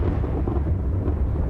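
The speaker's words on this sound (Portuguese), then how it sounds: "Um trovão distante." Low thunder rumbles in the distance over open African plains in the dry season, a steady deep roll heard alone with no voices.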